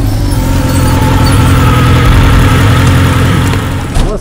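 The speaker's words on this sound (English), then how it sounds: "Justin's been behind us with a motorbike." A motorbike engine runs loud and close, holding a steady rough drone that swells slightly in the middle before easing off at the end.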